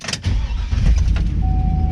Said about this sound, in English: we're getting ready to start up the Hummer here